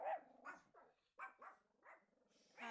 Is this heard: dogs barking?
yes